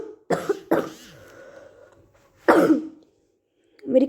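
Three bursts of harsh coughing from a person with a sore throat, spaced a second or two apart and loud and close, with a quieter throat-clearing sound at the end.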